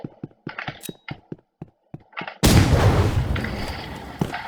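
Keyboard clicks tap out in short bursts, then a loud blast of Burst Rifle gunfire erupts in the Roblox Rivals video game and rings out in a long reverberating tail, with one more sharp crack near the end.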